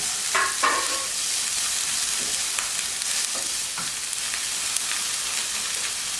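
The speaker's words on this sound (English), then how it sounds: "Next step, I'm adding my spinach." Spinach stalks tossed into a hot pan for a feta and spinach quiche sizzle steadily, with a few louder stir-and-drop moments near the start and faint scraping throughout, close and without talk.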